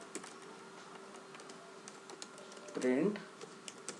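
Steady typing on a computer keyboard, quick soft key clicks in an even run across the span, fairly quiet, with a brief voice sound near the end.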